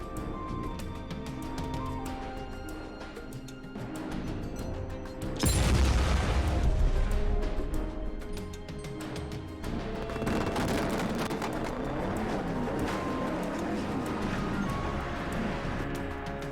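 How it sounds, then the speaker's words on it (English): Film explosion effects boom across an open landscape, heavy rumbling blasts with a sudden loud burst partway through, followed by sustained crackling and roaring debris. "explosions could be heard thundering through the landscape."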